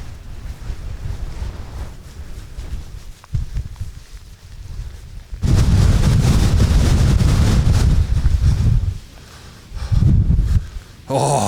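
Strong 70 mph gusts roar across an open mountain summit, buffeting the microphone in a loud, rough blast that surges and drops, with a quieter lull before and a second heavy gust near the end.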